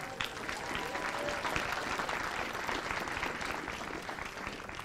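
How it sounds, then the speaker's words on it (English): At an 8th grade promotion ceremony, the audience breaks into warm, continuous applause with a few scattered voices in the crowd, holding steady for several seconds before easing slightly. "so please give her a round of applause."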